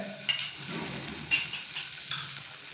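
Butter melting in a pan with bread for a quick snack, giving a soft steady sizzle with a few light scrapes and taps of stirring, close and moderately quiet, with no talking.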